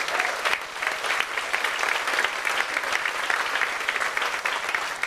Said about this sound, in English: So give ourselves a round of applause for joining us tonight.